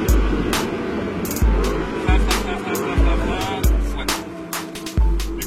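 An Audi R8 lifting off the throttle and braking hard on the Castellet circuit, with a run of sharp repeated low thumps and engine pulses heard close from inside the car over steady road and wind noise.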